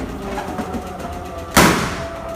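An air-filled balloon held over a lit candle bursts with one sharp, loud pop partway through, after a stretch of quiet room noise.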